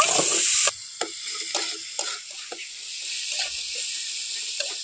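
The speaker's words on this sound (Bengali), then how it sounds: "এখন সমস্ত মশলা খুব ভালোভাবে কষিয়ে নেব।" Powdered spices fry (bhuna) in a pan for a potol and masoor dal dish, giving a steady close sizzle and hiss broken by repeated scraping stir strokes, louder at the start.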